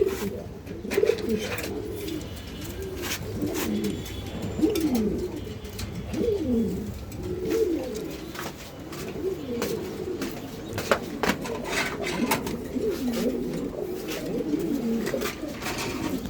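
Mundian pigeons at a pigeon farm in Mirpur 13 keep up a steady chorus of soft, rolling coos, repeated over and over at moderate distance, with faint rustles and clicks and almost no talk.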